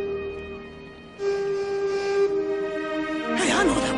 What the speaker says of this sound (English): Hey, I know that whistle.